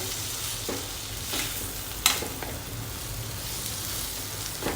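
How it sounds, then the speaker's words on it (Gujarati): Raw banana pieces being mixed and pressed down with a spoon in a pan of oil for a dry curry, giving a soft, steady sizzle with light scraping strokes and one sharper knock, close and fairly quiet, with no talking. "પ્રોપરલી મિક્સ કરી લઈશું અને કેળા છે ને એને થોડા આ રીતે દબાવી દેવાના"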